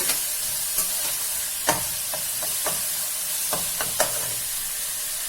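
Tomato and onion with green chillies frying in a pan, a steady soft sizzle broken by several sharp stirring scrapes and clinks, close and alone with no talk.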